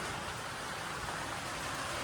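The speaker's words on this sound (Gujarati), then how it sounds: "જોઈ લો મિત્રો, વરસાદ ચાલુ થઈ ગયો" Heavy rain falls steadily, a soft, constant broadband hiss with no breaks, fairly faint and heard alone.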